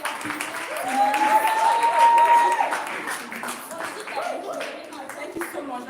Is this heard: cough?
no